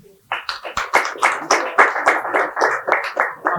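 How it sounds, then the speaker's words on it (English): An audience applauds with a quick, steady patter of many hands clapping together, close and fairly loud, holding at an even level for a few seconds. "Please, round of applause for her again"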